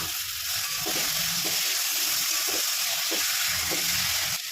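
Spices and chopped tomatoes being sautéed in a pan for a Bengali fish curry, giving a continuous close sizzle and hiss with faint scraping from stirring throughout.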